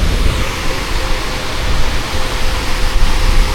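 River water rushes over a weir in Sheffield city centre, a steady, loud, broadband roar that continues without a break.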